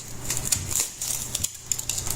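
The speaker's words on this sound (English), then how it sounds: "utility knife to cut my numbers" Utility knife slicing through styrofoam to cut out craft numbers, producing close squeaky scraping strokes and short crisp clicks in an irregular rhythm, fairly loud with no talk.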